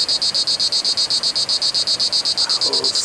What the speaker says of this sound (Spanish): Nosotros le llamamos chicharra a eso